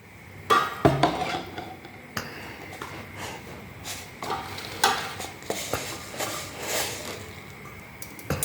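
Sesame oil heats in a pan for a fish curry, with a soft sizzle broken by scattered clinks and scrapes of a utensil against the pan, close by.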